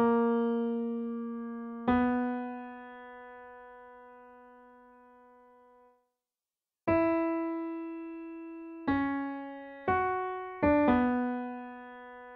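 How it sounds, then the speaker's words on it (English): A solo melodic line of sustained, harmonically rich tones plays the main Hightower theme from the House of the Dragon score; roughly seven notes ring out alone, with a pause in the middle and quicker notes near the end. "I just want to play the main part of the melody all by itself so that you can recognize it"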